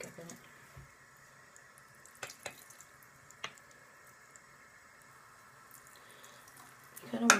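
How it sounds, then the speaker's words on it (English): Tap water running into a sink while makeup brushes are washed clean of makeup, a steady faint flow with scattered soft drips and splashes, briefly louder at the very end. "You kind of want to do it until the brush wash is clean, like the water runs out clear from it"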